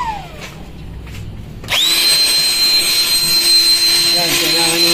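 A Euro Griffin 180i cordless turbo jet mini blower, 2000-watt with lithium battery cells, kicks on after a short pause and roars with a loud, steady high-pitched whine, a voice briefly heard before it starts.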